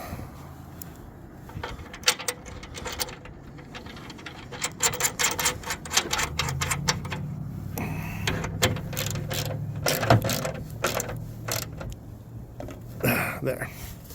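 A bolt being tightened with Loctite on a Rhino Pioneer platform rack holding Roam Adventure 95L cases: repeated close ratcheting clicks in quick runs, with a few louder knocks and scrapes, under occasional talk.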